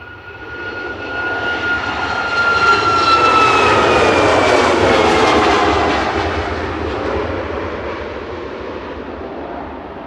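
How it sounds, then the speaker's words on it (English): A TUI Boeing 737 MAX 8 operated by SmartLynx, registration 9H-LYR, bound for Tenerife South from Manchester, its jet engines roaring up loud and close, peaking, then fading with a whining tone as it passes. "That was TUI operated by SmartLynx 737 MAX 8 9HLYR heading over to Tenerife South"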